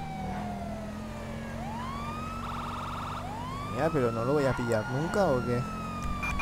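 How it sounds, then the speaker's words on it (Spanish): Several police car sirens in the video game GTA V with the LSPDFR mod wail and sweep in rising and falling tones over a steady engine hum, while someone speaks over them. "Como agobia tanta sirena."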